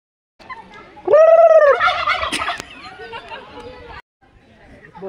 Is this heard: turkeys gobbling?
yes